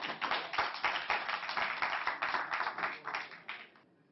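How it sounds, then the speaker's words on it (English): Audience clapping in a hall during a Ugandan lunchtime news broadcast, as a dense round of hand claps sustained evenly for about four seconds before cutting off abruptly. "Let's give him a big hand clap."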